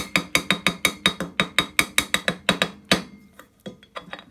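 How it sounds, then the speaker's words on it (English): A rapid series of sharp metallic hammer taps on a bearing puller, replacing 12-inch bandsaw bearings, about four per second for three seconds, then a few scattered lighter taps; close and fairly clear. "Let's just drive that down in a little bit further, just gentle tapping the hammer"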